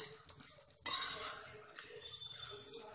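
Chopped nuts sizzle in desi ghee over a low flame, a soft hiss with a sudden burst of frying after they hit the pan, plus light stirring clinks, close and fairly quiet.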